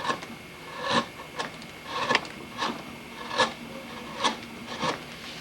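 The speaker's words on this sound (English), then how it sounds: "going to be using a heavy gouge. Could use a large chisel. This is just going to be the roughing out part." A heavy gouge struck with a roughly 20-ounce mallet roughs out a wooden carousel horse, sounding as a series of sharp, evenly spaced knocks with scraping cuts, close and alone.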